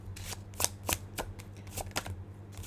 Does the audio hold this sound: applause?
no